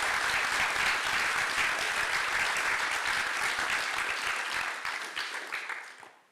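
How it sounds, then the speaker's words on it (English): Audience applause in a hall, a dense sustained wash of many hands clapping that holds steady, then tapers off and dies away at the end. "So that deserves a clap."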